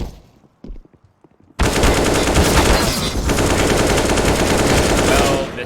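Game gunfire from a pistol round between BiG Academy and Tenerife Titans in a Valorant match on Mirage, a few faint sparse sounds first, then a loud, dense sustained burst of rapid shots and action noise that runs to the end.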